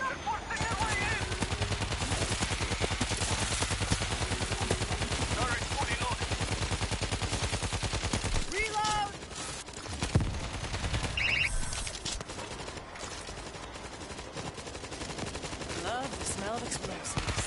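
Sustained rapid turret gunfire in the video game World War Z rattles loudly for about eight seconds, then breaks into scattered shots and other game effects.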